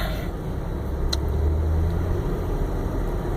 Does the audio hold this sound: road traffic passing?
yes